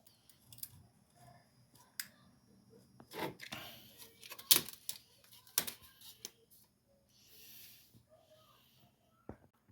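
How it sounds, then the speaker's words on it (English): A utility knife cutting during an IKEA Billy bookcase built-in build, heard as sparse, quiet scraping and slicing strokes with short pauses in an otherwise hushed room. "So I'm just going to take my utility knife here and cut those."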